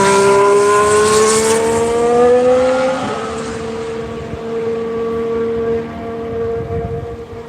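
A Formula 1 car engine during Barcelona testing, a loud screaming tone that shifts down sharply and then holds a steadier drone as the car moves away.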